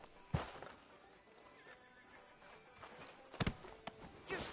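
Horse in Red Dead Redemption 2 gives sharp whinnies near the start and again toward the end, with scattered clip-clop hoofbeats in between, all fairly quiet and close.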